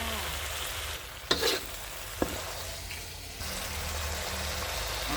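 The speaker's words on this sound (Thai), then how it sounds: "ใส่น้ำปลาเป็นขอบขอบกระทะนิดนึงค่ะ" A steady hiss of sizzling in a hot pan, broken by a brief splash as fish sauce hits the metal around the pan's edge and a sharp clack, close by.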